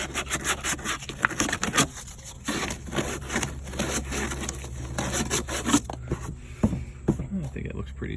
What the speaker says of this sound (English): it's a quick piece of sandpaper to get rid of the rest of the little fuzzies